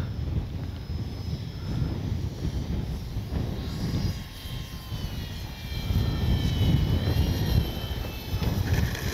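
A very light Arrows RC Corsair model plane's electric motor whines overhead as it comes in to land, its pitch shifting as it passes, under heavy rumbling wind noise from strong wind that swells and eases.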